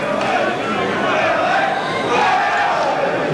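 Rugby league crowd of Leigh supporters cheering at Victory Park, a steady loud roar of voices throughout.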